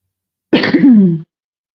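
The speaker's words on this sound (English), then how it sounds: "Sorry for all the coughing." A single rough cough, or throat clearing, close up and fairly loud, lasting under a second against silence.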